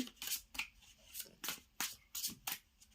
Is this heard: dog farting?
no